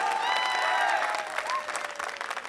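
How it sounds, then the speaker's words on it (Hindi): An audience claps at a Hindi kavi sammelan poetry recital in Ghaziabad, with dense, sustained applause from a crowd and a faint voice over it that thins out toward the end. "तालियां बजा दीजिए एक बार।"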